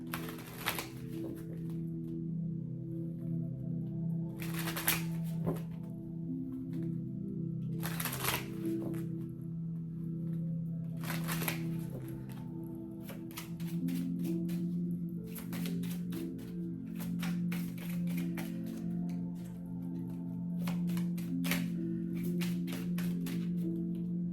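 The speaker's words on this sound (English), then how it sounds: "these are the talisman cards. Let's go ahead and pull these." Talisman cards shuffled and drawn by hand, repeated crisp riffling bursts and soft slaps spread across the span over a low steady hum, close and quiet.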